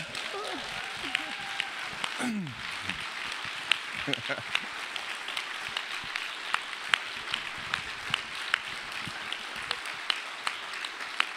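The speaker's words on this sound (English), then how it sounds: "So just by another clap of hands, can I know how many believers we have now tonight?" An evening crowd at a church event gives a long round of hand clapping, a dense steady patter of many hands with sharper individual claps, sustained throughout after a few brief voices at the start.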